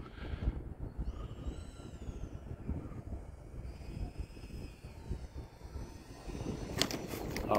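An E-flite A-10 Thunderbolt II RC jet with twin 64mm electric ducted fans whines faintly at a distance as it comes in to land on grass, the fan pitch sweeping and fading.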